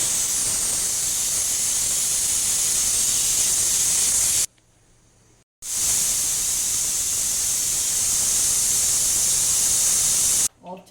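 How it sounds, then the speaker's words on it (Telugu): A kitchen pressure cooker cooking rice vents steam in two long, loud, hissing whistles, each several seconds long and broken by a brief silence. "2 విజిల్స్ రాగానే ఆఫ్ చేద్దాం"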